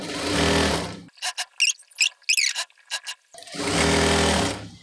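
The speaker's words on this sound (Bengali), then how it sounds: "2 সুতা পরিমাণ রেখে চাপ দিয়ে সেলাই দিয়ে নেব।" Sewing machine stitching a seam on a maxi dress, a close, loud whirring run at the start, then several short bursts in the middle, and another sustained stitching run at the end.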